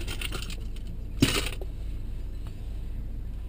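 A single small hard clink as a car key is set down in a storage compartment of a Peugeot 508, close, against a steady low engine-like hum.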